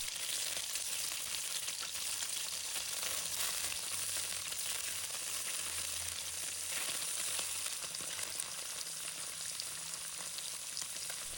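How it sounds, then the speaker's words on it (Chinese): Cut tofu pieces frying in hot cooking oil in a pan on low heat, a continuous even sizzle and crackle at steady loudness, with no voices. "把切好的豆腐一块一块轻轻放进锅里"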